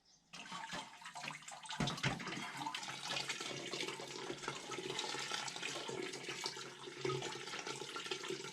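Steady rush of sparge water draining through a Brewzilla malt pipe during an all-grain brew, a continuous splashing trickle that holds fairly constant throughout.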